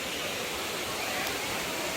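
The Kovai Kutralam waterfall near Coimbatore, Tamil Nadu, pours down as a steady, dense hiss of falling water. It sounds even and unbroken, with no voices.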